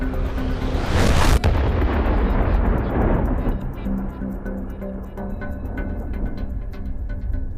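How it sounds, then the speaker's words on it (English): A cutting charge bursts against a steel column, sending molten copper through it. It lands as a loud, sharp blast, followed by a rushing roar that fades over several seconds into a lingering rumbling decay. "An explosion sends a stream of molten copper cutting through the steel."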